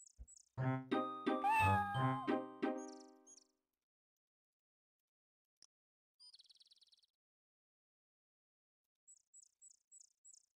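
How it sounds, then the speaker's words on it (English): A bush in the Quest for Glory game meows loudly, a run of clear cat meows over about three seconds, followed by short game chirps and beeps with silence between them. "the speedrun includes a bush that just meows at you"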